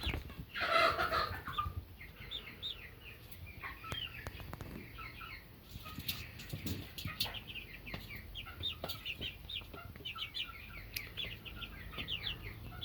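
Young chickens, including buff Brahma, golden lace Orpington, black Australorp and barnyard mixes, cluck and cheep continuously inside a brooding tent, with one louder call near the start and soft rustling throughout.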